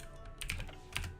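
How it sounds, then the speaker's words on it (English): Quick bursts of keystrokes on a computer keyboard, typing into the Windows search bar, soft and close with brief pauses between clusters, no voices. "we're going to go in to the search bar and we're going to type in"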